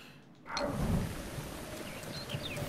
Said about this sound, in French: Oh merde, il y a de l'orage, il y a de l'orage